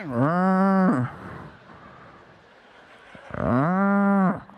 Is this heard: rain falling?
no